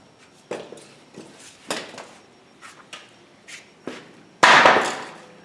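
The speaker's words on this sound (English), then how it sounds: "Just stick it in the center and drive it in just whack it with my hand." A scratch awl is driven into the centre of a wooden bowl blank by whacking it with the hand, a series of sharp, close knocks, spaced irregularly and ending in one louder blow.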